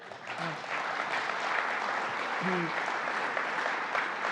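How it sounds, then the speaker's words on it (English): A crowd at a state budget announcement in Central New York applauds with a steady, moderately loud wash of clapping, with a brief faint voice or two mixed underneath. "give that a round of applause if you like"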